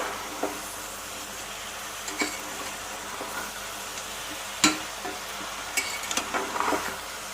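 Soft sizzling of vegetables frying in a pan for jackfruit curry, with scattered scrapes and clinks of a spoon stirring, faint and close with no talk.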